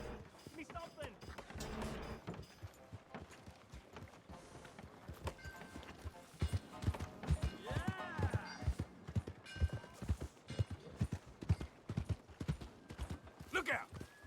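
Horse hooves pound in rhythmic clip-clop in the video game Red Dead Redemption 2, growing louder and busier midway as a horse gallops nearby, while voices talk over the hoofbeats.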